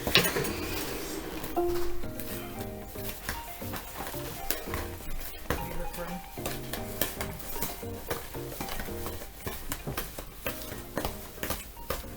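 Apple cake dough is stirred in a bowl, with a busy run of scraping, knocking and clinking spoon strokes that continues steadily, close by, with a few faint background voices.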